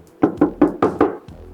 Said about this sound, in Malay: Ni bunyi besi betul.